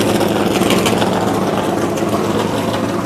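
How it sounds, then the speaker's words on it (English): NASCAR race car engine idling in the garage at Indianapolis before practice, a steady, loud, rough rumble with a dense broadband texture and no pauses. "tuning on that engine right before this practice"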